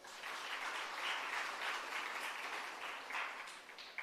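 An audience at a hybrid capacity-building workshop breaks into steady, sustained applause that swells and holds for about four seconds, a dense crowd of clapping hands heard from within the room.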